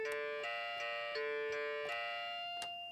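Electronic bell tones ring from an Adafruit Meowsic cat toy piano, six struck notes at a steady pace, each a clear chime with a short ringing tail, quiet and close, with no voices.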